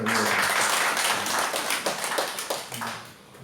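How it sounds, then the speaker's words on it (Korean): A church congregation at a Sunday worship service claps for the choir, a full, lively burst of many hands that gradually thins and softens toward the end. "우리 찬양대회에서 박수 한번 합시다"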